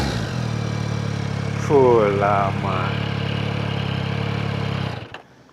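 A 2024 Yamaha MT-09 motorcycle engine idles close by with a steady, low thrum. Someone speaks briefly over it before the engine cuts off near the end.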